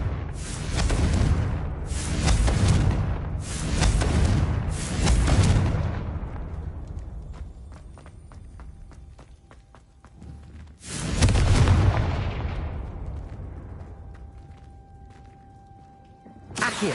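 Repeated Confringo fire spells in the game Hogwarts Legacy set off heavy booming explosions: four big blasts in quick succession, a fading rumble, then another loud burst, all without talk.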